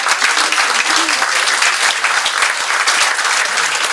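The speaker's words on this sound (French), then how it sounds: "vous pouvez l'applaudir" A large audience at a French political campaign rally in Vence applauds loudly and steadily, dense continuous clapping filling the room with no pause.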